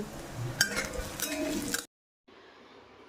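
Mustard seeds, curry leaves, onion and chilli frying in oil for poha, heard as a soft sizzle with stirring and the clink of a utensil against the pan. The sound drops out briefly, then a quieter sizzle returns.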